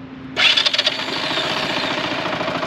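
A motorcycle engine cranks and catches, sputtering briefly before settling into a steady, buzzing idle close by, with no talking.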